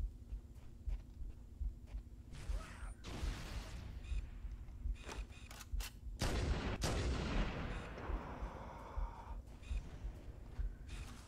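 A grenade blast in the video game Halo, a booming explosion with a long rumbling decay, followed shortly by a second louder blast and scattered gunfire shots around it.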